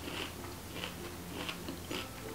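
A crunchy mini wafer cookie is chewed up close, with four evenly spaced crisp crunches over a steady, soft background and no talking.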